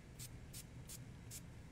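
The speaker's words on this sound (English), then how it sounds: "And we'll just spray that and let that set" Spray can misting a finishing coat over a painted artwork, four short, quiet hissing bursts evenly spaced in quick succession.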